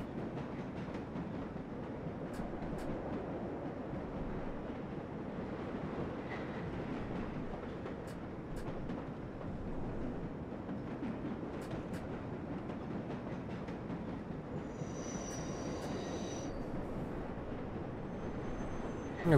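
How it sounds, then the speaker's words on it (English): A subway train in the video game World of Subways 4 pulls into Grand Central station, rumbling steadily with faint clicks and a brief high squeal near the end, fairly quiet and continuous with no talk. "We got a train pulling into Grand Central too just now."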